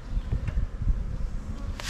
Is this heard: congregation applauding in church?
no